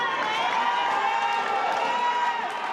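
Crowd noise at a wrestling show during the TIW Championship match between Tyler Vincent and Lance Madewell, a steady mixed roar of cheers and shouting with no letup.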